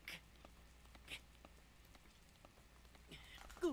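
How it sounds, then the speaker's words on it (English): Steady rain patter from Breath of the Wild fills the scene, a faint, even hiss with occasional brief game effects and a rising tone near the end. "Hopefully the rain will not prevent me."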